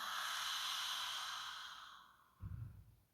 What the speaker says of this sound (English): Exhale, I quite like to exhale through open mouth.